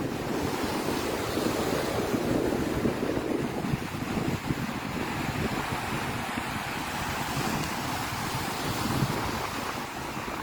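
Large ocean waves pound the shore while strong wind roars across the microphone during a typhoon in Batanes, a dense, continuous wash of surf and gusts holding loud and steady throughout.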